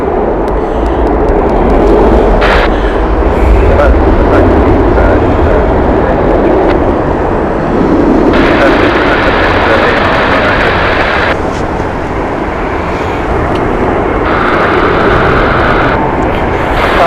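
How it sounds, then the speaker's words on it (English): British Airways airliner arriving at Heathrow from LAX, a loud, steady jet roar filling the whole clip with broadband rumble and shifting engine tones, heard close and continuous. "LAX flight, British Airways, inbound next"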